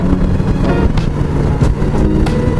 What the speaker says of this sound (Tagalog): Daming motor oh.